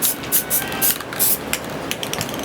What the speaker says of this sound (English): spray the white I was using, which is the Rust-Oleum Painter's Touch